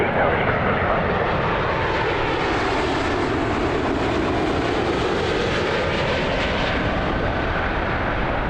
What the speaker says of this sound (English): Beautiful aircraft.